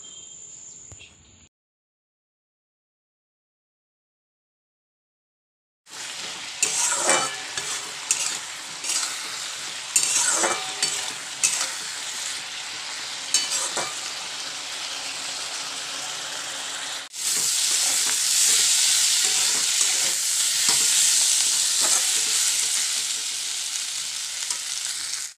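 Potatoes with turmeric frying in a pan, a steady loud sizzle with repeated clinks and scrapes of stirring after a brief quiet start, growing denser toward the end.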